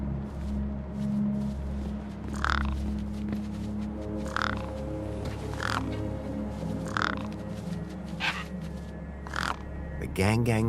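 Crow-like birds caw in Beyond a Steel Sky, several harsh calls spaced a second or two apart over a low droning ambient hum, with another voice talking in between.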